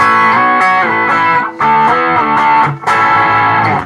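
An electric guitar played through a Digitech Hotrod distortion pedal, loud saturated chords and riffs in short phrases with brief pauses between.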